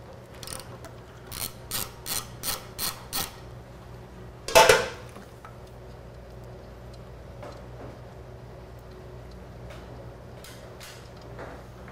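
A hand ratchet clicks in a quick run of about six strokes while backing out a 10 mm bolt on a 2011 Harley-Davidson Street Glide, followed by a sharp metallic clank and a quiet workshop with faint handling noise.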